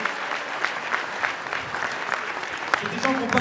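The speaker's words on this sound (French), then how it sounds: "Je pense qu'on peut vraiment les applaudir." An audience in a town hall applauds outgoing elected officials after a mayoral election in Montesson, steady dense clapping at moderate level with a voice heard over it toward the end.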